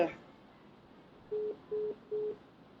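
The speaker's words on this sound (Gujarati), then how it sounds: "કપાઈ ગયો છે ફોન" A telephone call on a live call-in show cuts off, leaving a disconnected tone: three short, evenly spaced beeps, fairly loud and clear over a quiet line after a brief sound at the start.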